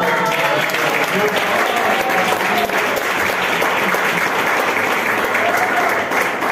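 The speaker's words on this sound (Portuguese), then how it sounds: "Receba com as palmas, Senhor." A church congregation at a Portuguese-language worship service claps loudly and continuously, dense steady palms filling the room with a murmur of voices beneath.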